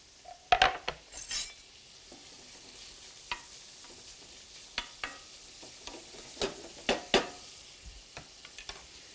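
Pancetta frying in butter and olive oil, a steady low sizzle broken by sharp scrapes and clinks of a utensil stirring in the pan, close and fairly loud at moments, with no one speaking.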